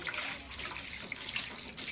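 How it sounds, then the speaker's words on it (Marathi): Cold water pours steadily onto dried aubergine pieces in a bowl, a continuous close splashing rush for a couple of seconds. "आता आपल्याला त्याच्यामध्ये आणखीन थोडंसं थंड पाणी टाकून घ्यायचं आहे"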